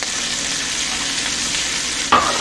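Onions sizzle steadily in a hot pan for chicken Marsala, a loud, continuous frying hiss, with a sharp clatter of stirring near the end; no talking.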